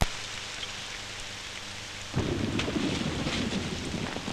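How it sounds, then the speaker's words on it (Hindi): Steady rain hisses throughout, then a deep rumble of thunder rolls in midway and the downpour grows heavier and louder. "सीमा में बारिश हो रही है बिना मौसम की"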